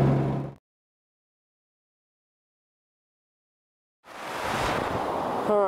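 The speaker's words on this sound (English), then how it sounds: "I know it's windy, so I don't want to get drowned out." Strong wind buffets the microphone outdoors by a tunnel along Clear Creek, a loud roaring rush in two bursts separated by several seconds of silence.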